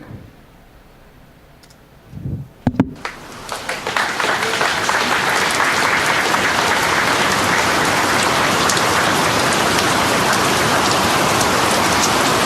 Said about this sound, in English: We're just gonna let it rain for a short little bit.